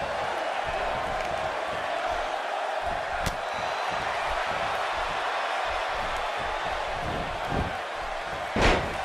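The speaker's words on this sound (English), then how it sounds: "She got her with the drop kick." A wrestler's drop kick lands in the WWE 2K18 video game, a sharp impact slam ringing out near the end over a steady arena crowd murmur and commentary voices.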